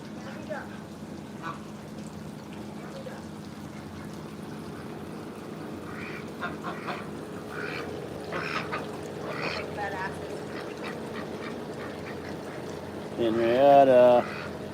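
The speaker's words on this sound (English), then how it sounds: "Got all them ducks and one chicken out there eating" A flock of ducks and one chicken eating outside, with soft scattered quacks and rustling under ongoing conversation, then a louder burst of quacking near the end.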